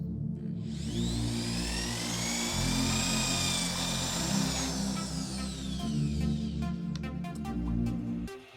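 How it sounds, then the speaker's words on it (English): A power drill bores holes into the tops of wooden Quarto game pieces, making a loud, steady whine with a rising and falling pitch across several seconds, then fading into clicks near the end. "Now it's time to drill the holes in the tops of the pieces that are supposed to have holes."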